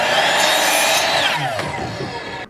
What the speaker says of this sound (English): we'll be using a compound miter saw to cut the border